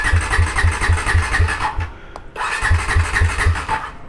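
A motorcycle engine cranking with a rhythmic pulsing starter, briefly cutting out, then cranking again with the same loud, close, repeating beat.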